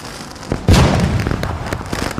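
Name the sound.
firecracker bursting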